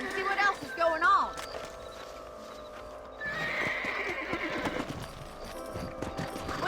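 Horses in the Red Dead Redemption western video game whinny and neigh, then clip-clop along at a steady trot, with hoofbeats close and clear beneath a continuous wash of game ambience.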